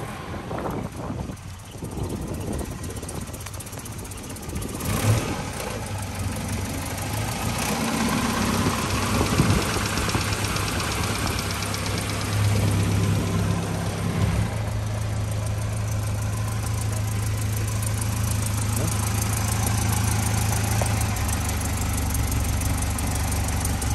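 A 1951 Riley RMB's 2.5-litre engine idles steadily with a low, rumbling hum and faint knocking, running continuously without talk.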